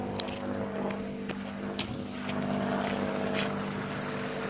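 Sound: waterfall

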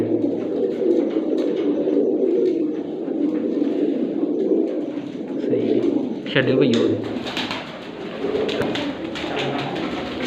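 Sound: pure-breed pigeons cooing

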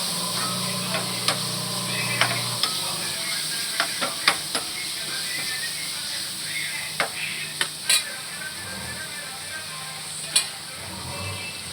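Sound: stirring broccoli masala curry with turmeric in a pan

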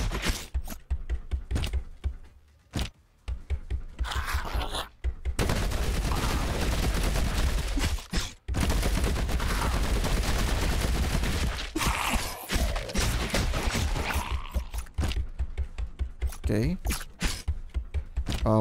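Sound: grenade launcher firing in a Diablo-DOOM video game

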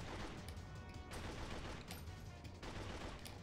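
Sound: gunshots in the video game 007: Agent Under Fire

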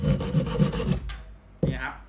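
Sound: Japanese pull saw cutting pallet wood

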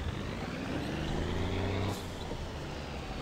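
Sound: truck engine reversing in My Summer Car video game

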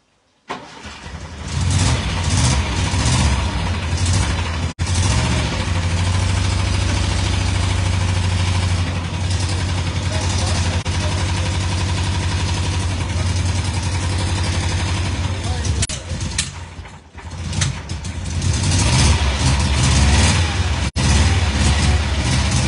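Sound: VAZ car engine starting and idling after carburetor installation

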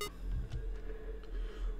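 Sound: phone beeping to lure animatronics in video game Five Nights at Candy's 2

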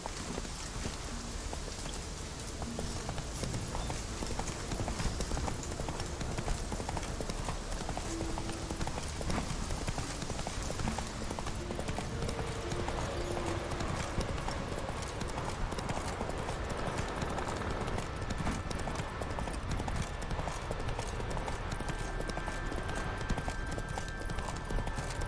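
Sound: horse hooves galloping in video game Witcher 3

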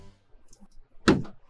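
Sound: camper van bathroom doors closing

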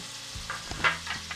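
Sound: chopped onion and sliced garlic frying in a pot

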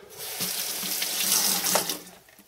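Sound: water running from tap while washing glass bottle

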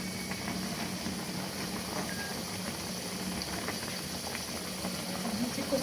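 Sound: taro boiling in a pot

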